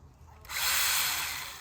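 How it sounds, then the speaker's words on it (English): A new mini chainsaw cuts into privet in a garden, its motor kicking in abruptly and holding a loud, steady, high buzzing whine that eases slightly toward the end. "I'm gonna use my new mini chainsaw"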